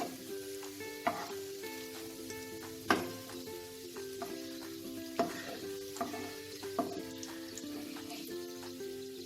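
Chicken pieces frying in hot oil for a Mughlai zafrani korma, a steady close sizzle with repeated sharp clinks and scrapes of a utensil as pieces are lifted out of the pan.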